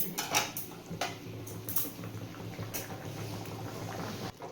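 A spoon stirs raw hilsa curry in a pot on the stove, giving a few close metallic clinks and scrapes over a low bubbling, hissing background.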